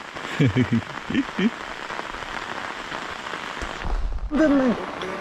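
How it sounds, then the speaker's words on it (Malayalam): Steady rain patters and hisses close by on the road toward Yuksom, Sikkim, while voices speak briefly at the start and again near the end. "നല്ല മഴയുണ്ട് ഇന്ന്"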